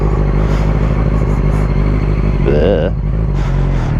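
Engine of a Yamaha R6 5EB motorcycle clunking into first gear near Beachy Head, a steady close engine drone with a brief shifting whine and rattle midway while a rider speaks over it.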